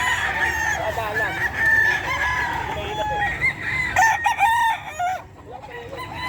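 A Boston Roundhead rooster crows at a busy pet market, its cry rising over clucking fowl and a noisy crowd.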